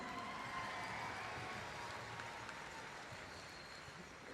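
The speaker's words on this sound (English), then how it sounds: "Let's give her a big round of applause." A crowd at the Gathering of Nations Pow Wow applauds an award winner with sustained, fairly even clapping from a large audience, heard at a moderate distance as a continuous wash for several seconds.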